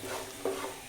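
Okra and onion being stirred in a hot pan, a brief quiet sizzle with a few spatula scrapes, the last one the loudest, no voices.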